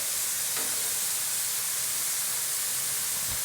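Steak strips fry in oil on a hot cooking surface for a Philly cheesesteak, giving a steady, bright hiss of sizzling that holds evenly throughout, close by, with no talking over it.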